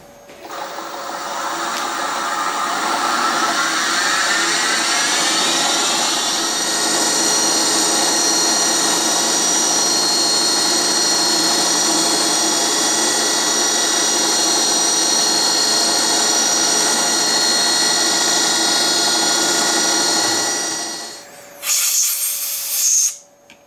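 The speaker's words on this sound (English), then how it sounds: "I'm going to pick out this radius with a 1 millimeter carbide end mill so I get a" Steady, high machine whine of a mill cutting a miniature M1911 sear with a 1 mm carbide end mill, continuous and close for about twenty seconds before winding down, followed by a short handling noise.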